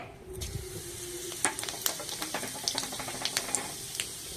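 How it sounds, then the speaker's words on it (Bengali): Whole cumin seeds dropped into hot mustard oil, a bright steady sizzle with rapid crackling pops spattering through it, close and fairly loud, no voices. "সর্ষের তেল একে একে মশলাগুলো দিয়ে দেবো গোটা জিরে"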